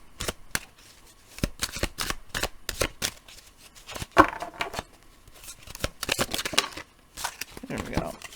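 Tarot cards being shuffled close by in a series of sharp riffling bursts and slaps with short pauses between, while someone speaks intermittently.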